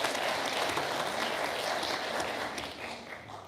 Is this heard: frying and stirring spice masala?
no